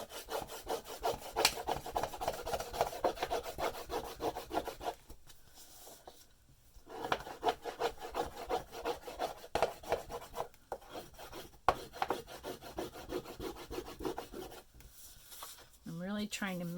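Crayon crosshatching on hand-colored paper: steady scratchy rubbing strokes, close and continuous, with brief pauses between bursts of strokes and no speech.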